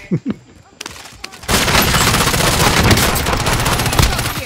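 Dense, loud automatic gunfire from a video game bursts in after a few faint shots and keeps rattling continuously to the end.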